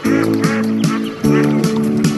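Ducks by a lakeshore give a loud, close run of repeated nasal quacks in two rhythmic bursts of several calls each, with a steady tonal buzz underneath.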